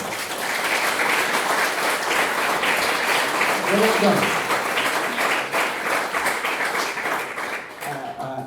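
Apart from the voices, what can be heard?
audience applause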